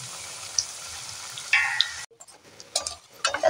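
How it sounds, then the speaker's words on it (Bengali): Vegetables fry in a pan, a close, hissing sizzle of oil with a couple of sharp pops, cut short midway by a brief lull before bursts of crackling and stirring return. "আবারও এক এক করে ভেজে নেব।"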